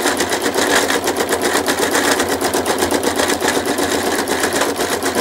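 A sewing machine stitches fabric continuously, its fast, even mechanical chatter loud and close with a steady rhythm and no pauses.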